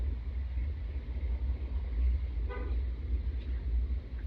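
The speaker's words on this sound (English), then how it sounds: "I heard a car horn." A car horn toots once, brief and somewhat distant, outside a home over a low steady rumble of background noise.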